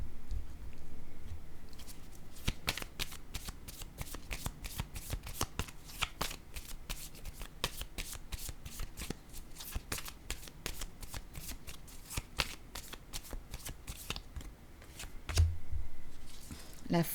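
Oracle cards are shuffled repeatedly close up, a long run of quick crisp riffling snaps and flicks, followed near the end by a card being set down, with a voice speaking softly underneath.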